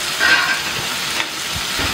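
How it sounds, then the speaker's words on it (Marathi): Chopped capsicum frying in a pan for Mumbai street-style pav bhaji, giving a steady broadband sizzle with faint stirring scrapes, close and moderately loud throughout. "ती मी याच्यामध्ये फ्राय करून घेणार आहे।"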